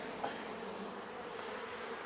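Honey bees buzz steadily at an opened overwintered hive with capped brood, pollen and larvae, a dense close drone of many wings holding even throughout with no voices.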